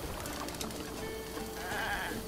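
Goat bleating in Zelda: Breath of the Wild, a short wavering call over steady game ambience and background music.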